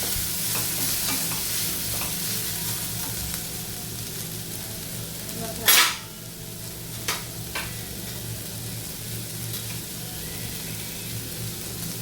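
Browned onions frying in a pan as spices go in, a steady sizzle throughout, with a stirring scrape midway and a few lighter clinks after.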